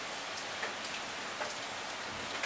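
Rain from Typhoon Hagibis falls in Japan, a steady, fairly faint wash of dense drops pattering on surfaces with a few slightly louder splashes, continuous and without voices.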